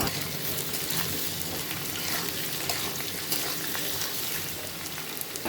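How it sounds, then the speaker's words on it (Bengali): Prawns coated in salt and turmeric fry in white oil in a kadai, giving a steady, dense sizzle with scattered crackles that stays close and even throughout. "প্রথমেই নুন হলুদ দিয়ে চিংড়িগুলোকে ভেজে তুলে নেব।"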